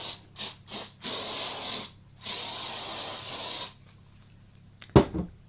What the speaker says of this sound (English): Then you just hairspray the top part of your hair.